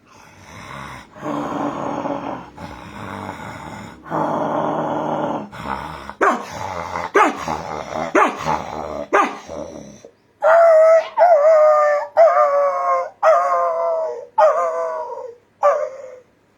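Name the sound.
person imitating dog growling, barking, howling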